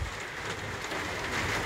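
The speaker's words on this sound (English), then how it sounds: "It is a lot of rain at the moment" Steady heavy rain falling outdoors beside a bird loft, a dense even hiss of drops that stays constant and fairly close throughout, with no voices.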